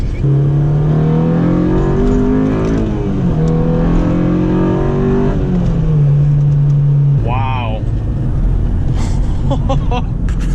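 A tuned Honda Civic Si with VTEC accelerates hard through the gears, engine drone rising in pitch with shift dips, then climbing into a higher-pitched scream near the end, loud from inside the car with a voice talking over it.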